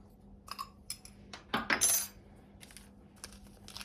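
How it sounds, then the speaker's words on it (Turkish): Dry ingredients, including a teaspoon of salt and baking powder for hush puppy batter, being stirred in a bowl; close, quiet scraping and light clinks come in scattered bursts, with a louder rustling stretch near the middle. "Kuru malzeme karıştırıyorum."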